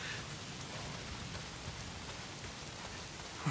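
Steady rain pours down in the Days Gone video game, a dense, even hiss of drops hitting surfaces that holds at a constant level throughout with no other sounds over it.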